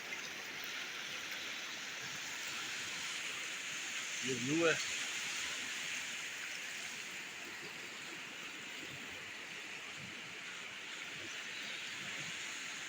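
Rushing water roars steadily along the Babusar route, a broad continuous wash like a forceful torrent, with someone speaking briefly over it partway through.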